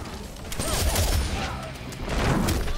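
Rapid bursts of gunfire from a Mortal Kombat X fight, fairly loud and continuous across the whole stretch, with shots clustering in dense volleys.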